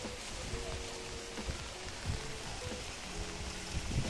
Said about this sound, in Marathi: असं सुंदर वातावरण आणि सुंदर पाऊस.